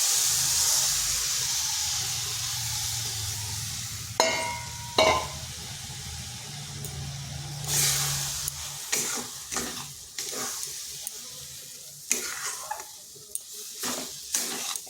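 Gram flour (besan) is stirred into cabbage frying in a pan, a steady close sizzle and hiss giving way to repeated scraping stir strokes and clicks of a spatula against the pan.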